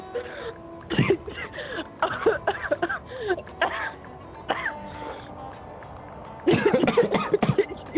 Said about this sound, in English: You sound like you have a bit of a cough.